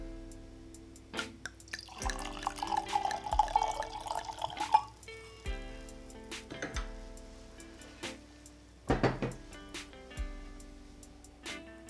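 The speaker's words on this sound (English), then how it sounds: "So let's give it a pour." Ripasso red wine is poured into a glass with a short gurgling splash, followed by scattered drips and soft clinks against a quiet room background with faint music.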